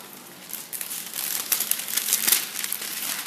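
Thin lining material for a gift arrangement crinkles and rustles close by in a steady, papery crackle that grows busier and louder partway through, with no voices.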